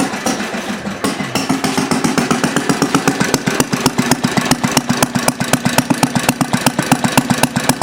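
A Briggs small single-cylinder engine fitted with a glass cylinder head runs nearby, its loud rapid chugging firing pulses steady and even, with a slight stumble early on, and no voices.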